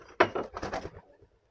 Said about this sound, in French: J'ai un pigeon qui vient de se poser sur mon balcon